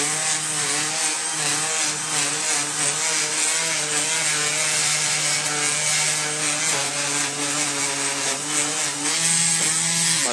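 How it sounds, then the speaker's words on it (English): A power sander on a wooden coffee table makes a steady, continuous whine with a gritty, abrasive edge, running without pause, loud and close throughout, with slight shifts in pitch. "We're going to sand this same way."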